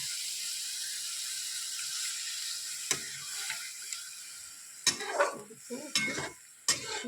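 Paneer curry in a pan hisses steadily, then a utensil stirs it in several scraping, clattering bursts that grow busier toward the end.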